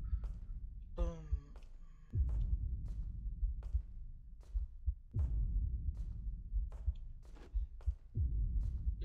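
Heartbeat sound effect in the Slender video game, Elementary map: a steady, deep thumping pulse repeating throughout, with a brief tonal swell and low rumbling ambience behind it.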